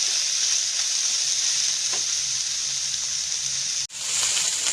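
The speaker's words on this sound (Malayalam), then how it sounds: "ഇനി അതിലേക്ക് നമുക്ക് തക്കാളി ചേർത്ത് കൊടുക്കാം" Onions with tomatoes fry in a pan, giving a steady, close sizzle with faint stirring scrapes throughout and a brief break near the end.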